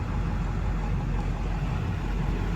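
A 2001 Ford Excursion Limited with a 7.3L Powerstroke diesel sits idling, giving a steady low, faint rumble with no talking.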